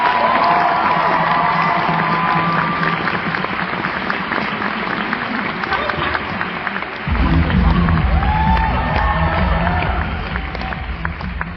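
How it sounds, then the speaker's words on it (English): Cheering and applause from a cosplay competition crowd at PAX 2024, a dense, steady roar of clapping and voices that swells louder and fuller partway through. "Everyone give one more cheer for this amazing costume"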